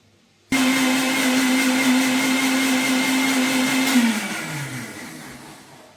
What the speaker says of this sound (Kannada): ಕಾಯಿಯನ್ನು ನುಣ್ಣಗೆ ಹರ್ಕೊಂಡು ಬರೋಣ